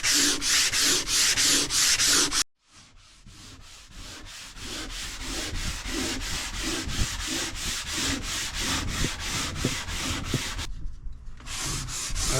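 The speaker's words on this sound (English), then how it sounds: "we are sanding with the grain to ensure that we remove any scraper marks" A rhythmic sander rasps steadily back and forth with the grain across a wooden countertop in even strokes, close and continuous, with one brief pause midway.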